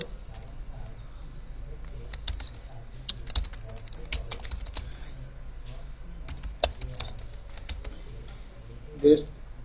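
Quick, irregular clicks from typing on a computer keyboard come in short bursts close to the mic, with a few louder taps and one brief rattle near the end, and a faint background hum underneath.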